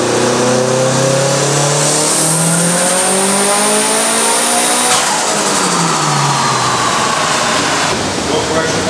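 Evo 8 fitted with a GT35 turbo revs hard through a dyno tuning pull, the engine note climbing steadily in a loud, continuous sweep, then easing off and rising again near the end.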